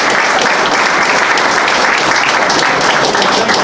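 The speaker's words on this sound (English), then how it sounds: "Another round of applause." Audience applause at a dedication ceremony, a steady dense wash of clapping from a crowd that holds at full strength for the whole stretch without a break.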